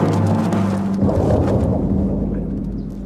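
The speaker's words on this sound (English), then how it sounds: "Summer storm has arrived." A thunderstorm sweeps in during a stage performance, a deep, loud rolling rumble that swells early and then slowly fades, with some tonal sound over the start and a faint rain-like hiss beneath.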